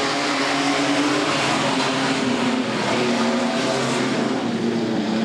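Race cars lapping a track during a race, heard as a loud, continuous, dense engine roar that holds steady throughout with no breaks and no clear voices.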